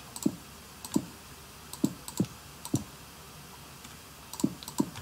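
Sharp, irregular keyboard clicks, about a dozen keystrokes in small clusters with pauses between, close and fairly quiet.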